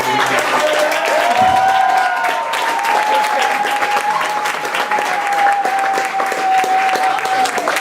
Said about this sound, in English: maybe one more round of applause for her amazing